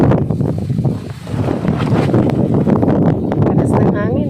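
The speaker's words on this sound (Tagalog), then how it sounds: "Sobrang lakas ng hangin." Strong, gusting wind buffets the microphone continuously outdoors in Lagonoy, Camarines Sur, roaring and rustling throughout, with a brief lull near the start and rough rattling noises on top.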